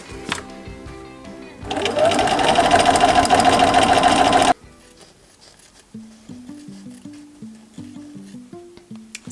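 A sewing machine runs in a loud continuous burst of stitching through layered fabric pieces and padding, then stops, followed by quieter tonal sounds.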